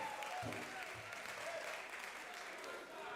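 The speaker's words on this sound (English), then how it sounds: "A round of applause to them." A crowd applauds at a university quiz competition, the Gas Challenge semi-final, with steady, fairly faint clapping that continues throughout while a voice speaks over it.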